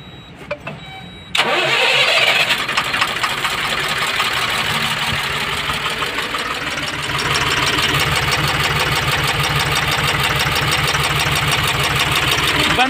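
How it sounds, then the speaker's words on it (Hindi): Brief quiet, then a Tata BS4 diesel truck engine with injector trouble cranks and catches, rising into a loud, continuous idle with a steady rhythmic chug close by. "हाँ गाड़ी स्टार्ट करो।"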